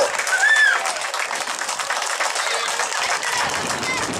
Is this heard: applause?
yes